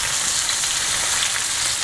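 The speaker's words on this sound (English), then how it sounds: "so now the steaks have been cooking for a few minutes" Ribeye steaks sizzle and fry in a hot pan, a steady, close hiss of crackling fat that continues evenly with no voices.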